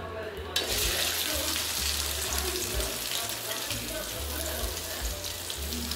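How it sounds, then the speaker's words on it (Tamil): Okra frying in oil in a home kitchen, a steady crackling sizzle that starts abruptly as the pieces hit the pan and continues evenly, fairly close, with faint stirring and no talk. "வெண்டிக்காய் போட்டு ஒரு 5 minutes இந்த எண்ணெயிலே நல்லா வதக்கி விட்டுருங்க."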